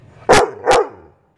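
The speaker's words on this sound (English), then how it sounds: "dogs barking" A dog gives two sharp, loud barks in quick succession, close by and otherwise alone.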